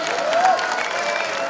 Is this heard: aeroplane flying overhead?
no